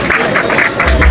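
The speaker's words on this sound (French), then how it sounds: "On les applaudit" Audience applause at a French stage event, a short burst of dense clapping from a crowd, loud and continuous over about a second.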